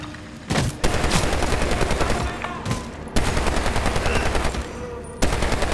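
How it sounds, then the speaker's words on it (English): Rapid bursts of automatic gunfire from a burst-fire weapon in the Medal of Honor: Warfighter shooter, loud and close, in repeated volleys with short gaps between them. "It's like a burst. Every time you fire it, it shoots like 7 shots."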